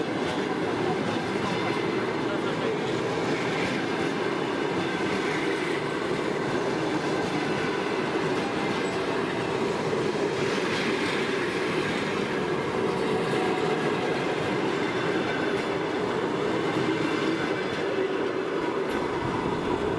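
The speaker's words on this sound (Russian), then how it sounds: "длинный, длинный состав такой" A long train rolls past steadily, with a continuous rumble of wheels and faint rhythmic clatter from the cars. It is loud and sustained, and a voice speaks briefly under it.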